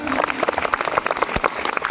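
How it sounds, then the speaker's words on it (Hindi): A village stage audience in Phatkapur breaks into loud, dense applause, a continuous roar of many hands clapping at once with a voice faintly talking over it. "आप लोग एक बार अपने लिए जोरदार तालियां बजा लीजिए"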